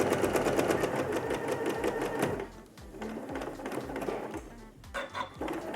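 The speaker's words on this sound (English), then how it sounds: "I did just sew over that pin" A sewing machine stitches steadily across a bear claw quilt block and over a pin, with a rapid, even mechanical chatter up close that slows into separate clunking stitches toward the end.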